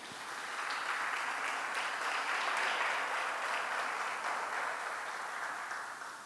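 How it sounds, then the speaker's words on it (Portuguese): A church congregation breaks into sustained, dense applause that builds quickly and holds steady for several seconds, a wash of many hands clapping at moderate distance. "Dê uma salva de palmas, Senhor."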